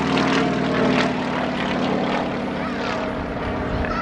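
A Sukhoi Su-26MX aerobatic propeller aircraft engine drones loudly and steadily at an air show, a powerful buzzing roar that stays close throughout.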